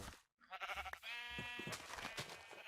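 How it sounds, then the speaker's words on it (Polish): A sheep in Minecraft bleats loudly and close, a wavering drawn-out cry with a second bleat right after it. "Akurat jest tu już 6 owiec"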